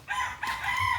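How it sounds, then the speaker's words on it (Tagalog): A rooster crows loudly and close, a drawn-out harsh call, with many chickens clucking faintly in the background. "Daming manok na dito."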